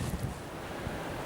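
Steady wind gusting beside a river, a continuous low rumble with some rushing hiss, close to the microphone and buffeting it, with no voices.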